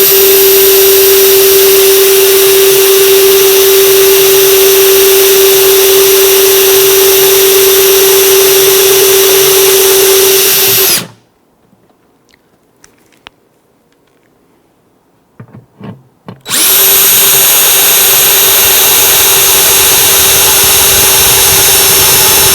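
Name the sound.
drill boring holes in acoustic guitar bridge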